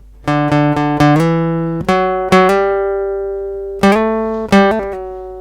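A short electric guitar phrase of plucked single notes on the fifth string with hammer-on and pull-off slurs, from a solo to a song, ringing clearly alone, with a brief pause before the final notes.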